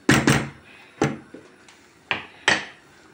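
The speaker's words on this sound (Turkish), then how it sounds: "Şöyle bir defa karıştırıyorum." A spoon knocks against a cooking pot of dried beans as they are stirred, giving a few separate close knocks and clatters in an uneven rhythm, with quiet pauses between them.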